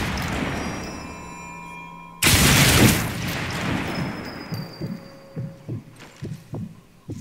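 A heavy explosion in the World War II shooter Sniper Elite 4 bursts out suddenly over a low game-world rumble, then rolls off into a long fading roar and is followed by a series of dull thumps.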